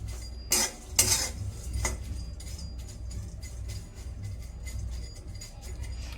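A utensil scrapes and clinks against a pan while stirring dried tendli fish, heads and tails removed, as it roasts; a few distinct metallic knocks early, then steady soft scraping and faint sizzling, close and moderately quiet.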